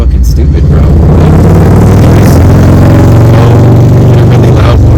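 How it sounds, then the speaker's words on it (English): A very loud engine roars and revs right at the microphone, a dense, sustained low rumble that swells and holds for several seconds and drowns out everything else. "Really loud motorcycle so everybody knows how cool you are."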